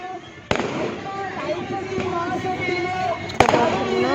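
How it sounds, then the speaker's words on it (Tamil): Firecrackers go off at a temple festival as the deity procession sets out, with sharp loud bangs near the start and again near the end over a dense crackling, festive din. "வெடி அடிச்சிட்ருக்காங்க."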